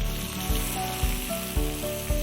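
Papaya pieces sizzle steadily in a hot pan on a low gas flame, a continuous close frying hiss broken by soft regular stirring scrapes about every half second.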